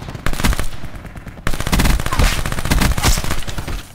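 Rapid automatic gunfire in the video game Black Ops comes in dense, loud bursts: a short volley, a brief break, then a long sustained stream of shots, up close and with no talking.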